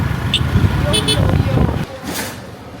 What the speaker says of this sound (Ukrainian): зараз ми приїхали на автобусну зупинку